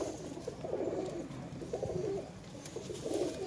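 Kasoori pigeons coo softly and repeatedly in a low, throaty rhythm, with no talking.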